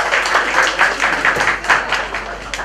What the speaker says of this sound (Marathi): सर्वांनी सूर्यवंशी सरांचं एकदा टाळ्या वाजवून स्वागत करावं.